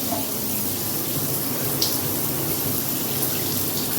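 Water streams steadily from a newly installed shower head in a home bathroom, a constant close hiss and splash with no pauses.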